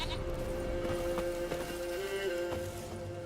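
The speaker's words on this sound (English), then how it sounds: "Here, goat." A goat in The Witcher 3: Wild Hunt gives a short wavering bleat at moderate volume, with hoof clip-clops and a low game ambience around it.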